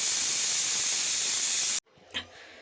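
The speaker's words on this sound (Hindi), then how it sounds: "जब तक हमारा कुकर का प्रेशर निकल रहा है" A pressure cooker of mustard greens vents steam after its whistle, a loud, close, steady hiss that cuts off abruptly, followed by a faint clunk and a short quieter hiss.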